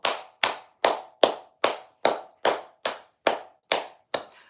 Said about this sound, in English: just clap it up to Auburn